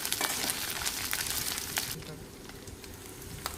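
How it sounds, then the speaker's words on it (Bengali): Prawns and onions sizzle and crackle in a hot pan while being stirred together for a kachu palong shak ghonto, a steady close frying hiss with occasional scrapes that softens partway through. "চিংড়ি মাছ দিলাম, ভাজা চিংড়ি মিশিয়ে নিলাম সবগুলো"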